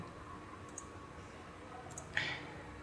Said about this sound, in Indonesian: Jika sudah, kita klik OK.